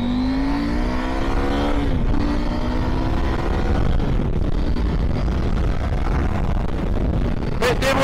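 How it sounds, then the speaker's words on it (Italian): KTM 890 Adventure motorcycle accelerating in second gear on the road: a loud engine note climbing steadily in pitch under heavy wind rush, then easing off near the end, with no voices. "Allora, siamo in seconda marcia e proviamo l'accelerazione."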